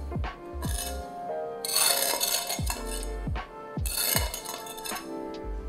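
Crispy oven-roasted pork belly crackling crunches and clinks in a series of sharp, loud snaps and crackles, with bright bursts of crunching that come and go over several seconds.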